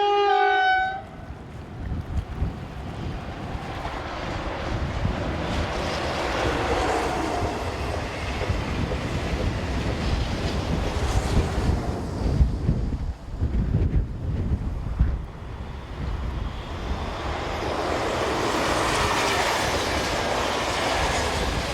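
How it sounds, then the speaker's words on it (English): A TGV high-speed train heading south on a Paris to Avignon service rushes past in a long, steady roar with wind buffeting the microphone, swelling and easing over the pass with no voices. "TGV set number 45, since withdrawn since this shot was taken, heads south with a service from Paris to Avignon"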